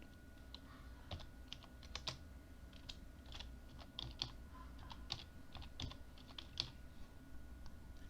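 Typing a username on a computer keyboard during a Windows 10 installation: quiet, close, irregular key clicks in short bursts with brief pauses, over a faint steady hum.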